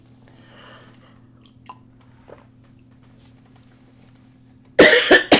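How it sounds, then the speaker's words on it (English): A sharp, loud cough bursts out near the end of a long, quiet stretch with a steady low hum, from someone reacting to a new wood-shavings cat litter. "Trying not to have a coughing fit in the middle of that."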